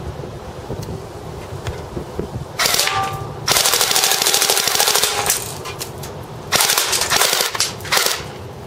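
A CYMA Desert Eagle airsoft pistol fires on full auto in two loud, rapid rattling bursts, a longer one and then a shorter one, separated by quieter background noise and gaps.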